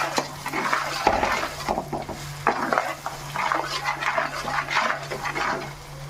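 A spoon stirs chili powder and coarse salt into an Andhra-style fish curry base in a pan, with steady scraping and clinking against the metal across the clip, a low hum underneath and no voices.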